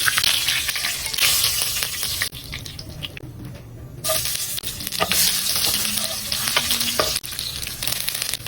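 Pork humba sizzling and frying in its own rendered fat, a dense continuous crackle with stirring scrapes and a short quieter dip midway, close and steady.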